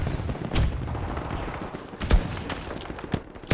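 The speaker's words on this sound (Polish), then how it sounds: "trzy strzały z rewolwera to trochę za dużo" Revolver gunshots in the Battlefield 2042 beta: four sharp, loud reports spaced irregularly over a few seconds, with a low rumble of game ambience between them and no talking.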